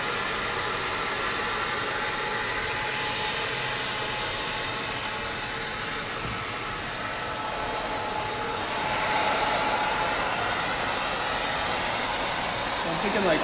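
A blow dryer runs steadily on long layered hair during a razor haircut, a constant close airy roar that swells slightly louder toward the end, with no talk over it.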